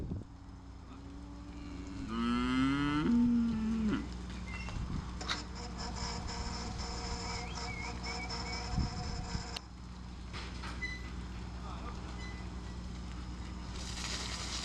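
A dairy cow on a farm in Kilkenny, Ireland, lets out a loud, drawn-out moo early on, while flies buzz and low farmyard noise carries on for the rest of the stretch.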